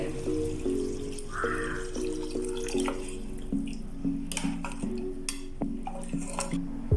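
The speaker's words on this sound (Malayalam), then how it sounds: "നമ്മൾ ഇതിലേക്ക് നേരത്തെ അളന്നിട്ട് എടുത്തു വെച്ച വെള്ളം ഇതിലേക്ക് ആഡ് ചെയ്യുന്നുണ്ട്" Measured water poured into a cooking pot holding beef, with a running, splashing trickle, light drips and occasional clinks of the pot close by.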